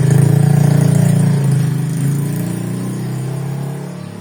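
A motorcycle engine idles nearby with a steady, throbbing low hum that eases slightly in loudness toward the end.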